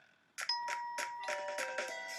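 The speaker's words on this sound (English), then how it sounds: "That was a cute doorbell." A cute doorbell chimes in a video game, a soft run of bright bell tones ringing several times in quick succession against a quiet background.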